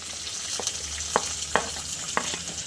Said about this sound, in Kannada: ಇವಾಗ ಇದಕ್ಕೆ ಹೆಚ್ಕೊಂಡಿರೋ ಅಂಥ ಕ್ಯಾಪ್ಸಿಕಮ್ ಹಾಕೊಳ್ಳೋಣ.